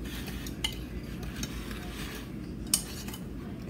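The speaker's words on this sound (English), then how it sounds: "I'm gonna mix the dry products completely together." Dry ingredients for gummies being stirred together in a short pan, a continuous soft scraping with a few light clinks of utensil against metal, close and quiet.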